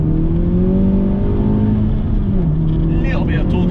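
Honda Civic Type-R FK8 accelerates hard in second gear, its loud engine note climbing steadily and close, with a brief shift in tone near the end.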